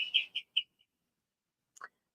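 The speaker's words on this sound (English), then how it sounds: "These are natural bird calling." Natural wild bird calls outdoors near nests on a wall: a quick run of four or five high chirps, then silence, then one brief two-note call, faint and alone.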